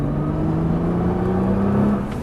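A Nissan GT-R engine close by accelerating on a race track, its pitch climbing steadily over a couple of seconds.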